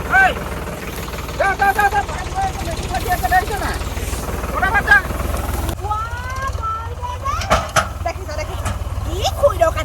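A tractor engine idles with a steady low chugging rumble throughout, while people talk loudly over it.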